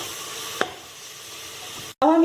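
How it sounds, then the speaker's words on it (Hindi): Spice powders roasting in a pan give a steady soft sizzle with one brief stir knock, then a short cut and a louder burst of frying at the end, close by with no speech. "अब सभी मसालों को हम अच्छे से भून लेंगे।"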